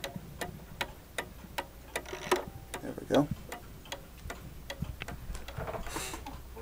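Mantel clock ticking with a steady, evenly spaced tick-tock and its chime mechanism in motion, close and clear, while someone speaks briefly over it.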